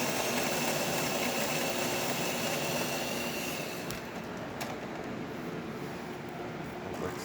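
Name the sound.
Jura ENA Micro 9 espresso machine pulling a shot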